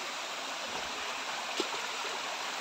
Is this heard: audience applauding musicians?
no